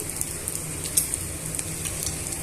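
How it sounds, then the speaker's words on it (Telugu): Peanuts and curry leaves fry in oil in a pan, giving a steady, dense sizzle with small crackling pops throughout and no voices. "యాడ్ చేసుకున్న తర్వాత ఇవన్నీ కూడా బాగా వేయించుకోవాలి దూరగా వేయించుకోవాలి"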